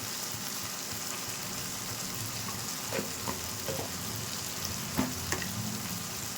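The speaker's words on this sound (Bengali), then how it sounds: "মশলাটা দিয়ে দিয়েছি এটাকে একটু কষিয়ে নেব" Spice masala sizzles and fries in a pan for a Kashmiri-style cauliflower and potato dum, a constant close hiss with a few soft scrapes and clinks of stirring toward the end, no voices.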